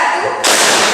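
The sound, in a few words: hand clap in a classroom clapping game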